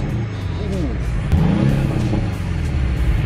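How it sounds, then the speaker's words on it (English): A Porsche 718 Boxster flat-four engine revs and climbs in pitch, a raspy rising growl close by, with a voice briefly audible alongside. "That's a proper sports car, and it sounds great as well. Just listen to this."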